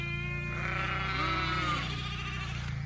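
Sheep in a farm flock bleating, several overlapping calls of varied pitch close by, some drawn out, over a steady background hum.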